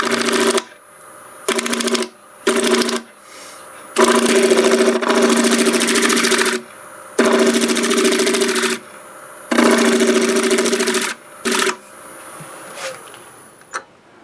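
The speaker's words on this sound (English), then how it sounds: "We'll see how this cleans up, and I'll use the negative rake scraper for that." A wood lathe runs while a negative rake scraper cleans up a turning salvaged from garage sale scrap, giving a steady buzzing whine in repeated bursts of a second or more, separated by short quieter pauses.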